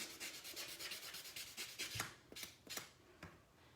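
Nail buffer scrubbing over dip powder nails, a faint close series of rapid rhythmic rubbing strokes that slow and become more spaced toward the end.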